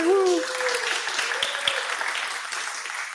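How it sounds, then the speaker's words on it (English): Applause for Vonage as sponsor at a CityJS pre-conference web components workshop, a steady wash of clapping from a small audience with a voice cheering over it at the start. "So big round of applause for Vonage for paying for my stuff here."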